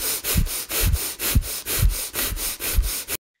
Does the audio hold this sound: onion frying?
no